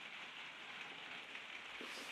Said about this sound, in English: Just in case you're wondering about the background noise, it's a rainy day out there.